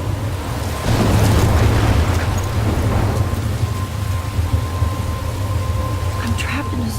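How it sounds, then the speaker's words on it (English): A storm in the video game Life is Strange: heavy rain hisses steadily while low thunder rumbles and swells, loud and continuous throughout. "I'm trapped in a storm?"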